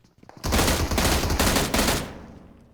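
Loud, continuous burst of automatic gunfire in the mobile battle-royale game PUBG Mobile, a close sustained volley of roughly a second and a half that then tails off, with no talk over it.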